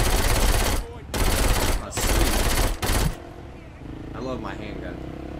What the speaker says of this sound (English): Look at this machine gun I have.